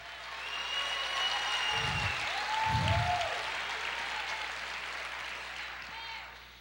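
Steady crowd applause fills a church worship service throughout, with a couple of low thumps and a voice faintly audible over the clapping.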